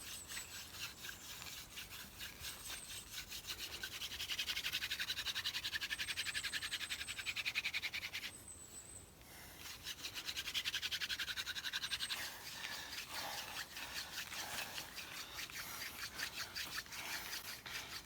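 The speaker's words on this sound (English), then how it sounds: "the hand drill friction fire" Steady dry rubbing and scraping of a wooden hand drill spinning against a fireboard for friction fire, continuous and close, swelling louder in two bursts with a brief pause between.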